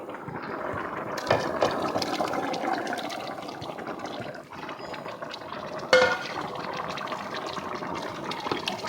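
Sautéed sausage scraped and dropped into a pot of red beans, with wet sloshing, spoon and metal pot clinks, and a sharp knock near the middle, close and continuous without talk.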